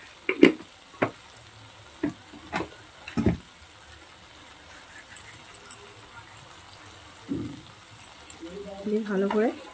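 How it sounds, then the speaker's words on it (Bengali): A spice mixture with a pinch of sugar and crushed kasuri methi fries in oil in a pan for a fish curry, a quiet low sizzle broken by sharp clicks and scrapes of stirring. "ভালো করে আর 1 মিনিটের মতো আমি ভেজে নেব"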